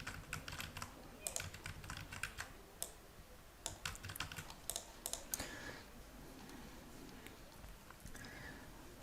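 Computer keyboard keys click in quick, uneven bursts as a card number is typed in, quiet and close, with a few spoken words in between.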